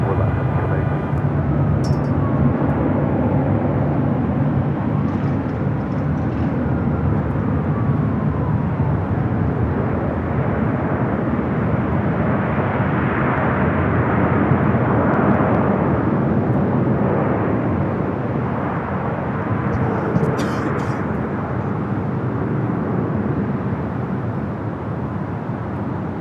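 An airliner roars steadily down runway 24 Left at Los Angeles International Airport, a loud, continuous broadband engine rumble that holds for the whole stretch with little change.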